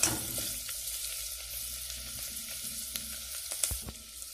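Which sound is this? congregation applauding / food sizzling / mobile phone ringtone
food sizzling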